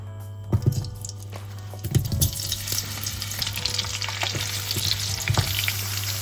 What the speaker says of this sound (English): Once your oil is hot up to a good level, simply put in the potatoes which you cut.